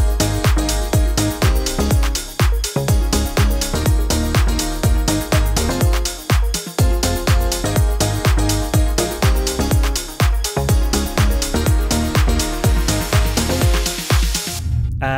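Full trance track with a driving bass line, plucks, arpeggios and piano layered together, a steady pounding groove played loud and dense for the whole stretch with no talking, before it suddenly cuts off at the very end.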